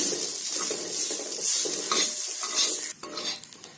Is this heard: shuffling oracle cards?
no